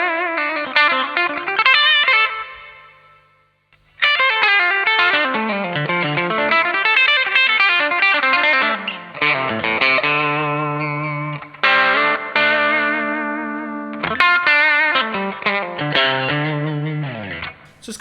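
Overdriven electric guitar, a Stratocaster, playing a loud, continuous melodic passage with sustained distorted notes and a brief pause near the start.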